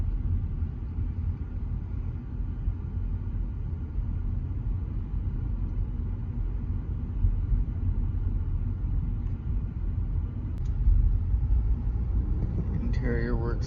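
A car's engine and road rumble fill a test drive, a steady low drone with tire noise throughout, with a person talking over it.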